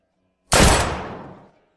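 A single loud gunshot cracks sharply after a moment of quiet, then rolls away in a fading echo.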